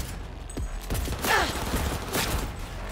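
Gunfire in Cyberpunk 2077, with bursts of rapid game shots and impacts mixed with combat effects, moderately loud over a busy background.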